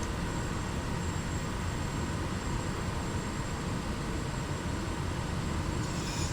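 A light airplane on final approach to landing gives a steady, loud broadband drone of engine and wind, constant throughout with no talking.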